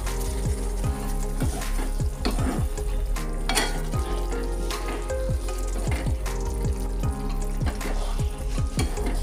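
Cooked cowpeas (chavali) tossed into a hot pan give a loud, steady sizzle, broken by repeated scrapes and knocks of stirring close by.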